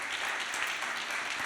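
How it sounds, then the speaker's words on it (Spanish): Audience applause at a cultural centre event for a Banksy exhibition, sustained dense clapping from a crowd, steady and even throughout the brief moment. "un aplauso nuevamente para él por su gran trabajo."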